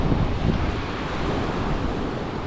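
Waves wash onto a Milwaukee beach in winter, buried under a heavy, constant rush of wind buffeting the microphone, loud and unbroken.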